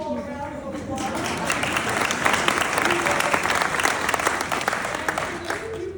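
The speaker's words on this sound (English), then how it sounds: "Let's give you all a round of applause." A large crowd applauding at a Seattle town hall with a congresswoman, sustained clapping that swells after the first couple of seconds, with voices and cheering mixed into the steady roar.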